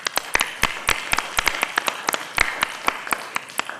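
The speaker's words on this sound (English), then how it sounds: "maybe we can just have a round of applause for" An audience claps in a round of applause at a hybrid group meeting: a modest crowd of sharp, irregular hand claps, fairly close and steady, with no talking.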